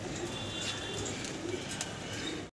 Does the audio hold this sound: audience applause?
no